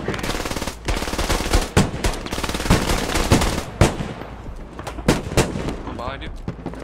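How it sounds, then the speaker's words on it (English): Sustained MG3 machine gun suppressive fire in a video game, loud, dense bursts of rapid shots with brief gaps, mixed with other gunfire in a close combat soundscape. "Suppress with that MG3"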